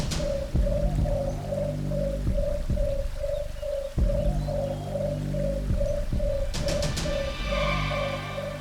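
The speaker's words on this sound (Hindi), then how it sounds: "ये पक्षी तो निशाचर पक्षी नहीं?" Bird calling in a dense forest: a rapid, even train of hollow cooing notes repeats steadily throughout, loud and close, over a low background hum.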